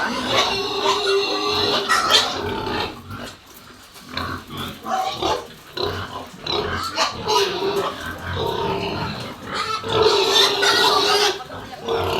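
Pigs grunt and oink repeatedly at a pig market, fairly close, with people talking and general commotion in the background.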